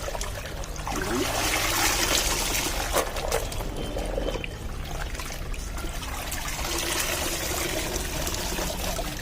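A steady rush of water poured out of a bucket after soaking saris, in a continuous stream, splashing loudly onto a hard surface close by for several seconds.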